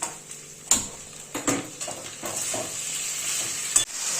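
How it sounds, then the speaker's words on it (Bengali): Spinach and vegetable curry seasoned with salt and turmeric is stirred in a hot pan, with scraping utensil strokes and knocks over a rising, continuous sizzle, heard up close. "এবার আমি নাড়ব গ্যাসটা অন করে দিচ্ছি"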